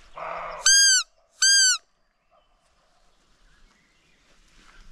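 Roe deer calling in the field: two short, loud, high tonal cries about a second apart, close and clear, followed by near silence.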